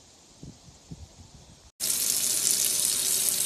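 A kitchen tap is turned on to fill warm soapy water for scrubbing glue out of faux batik pillow fabric: a quiet moment with a few soft knocks, then a loud, steady gush of running water.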